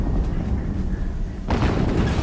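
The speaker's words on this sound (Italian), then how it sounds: "Un'altra esplosione. Un'altra esplosione." A loud, rumbling blast erupts in the video game Horizon Zero Dawn, a dense roaring boom that swells abruptly midway over a continuous low rumble of game noise.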